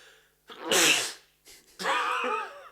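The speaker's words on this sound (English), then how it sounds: "But I'm gonna sneeze." A close, loud sneeze with a sharp burst, followed by a second short sneeze or exhalation after a brief pause.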